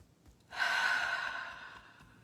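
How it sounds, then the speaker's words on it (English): A single deep, audible exhale during a guided meditation, a breathy hiss that swells suddenly and slowly fades over about a second and a half, close and fairly quiet. "So you just keep breathing."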